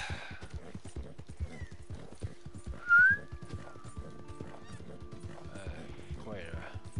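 A horse in Red Dead Redemption 2 clip-clops at a steady trot, hooves beating rhythmically throughout, with a brief loud whinny midway and a voice talking over the hoofbeats.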